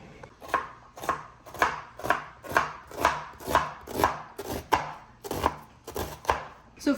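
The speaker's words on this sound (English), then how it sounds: "I am dicing a whole onion" A knife dices an onion steadily on a cutting board, about two crisp strokes per second, close and clear with no talking.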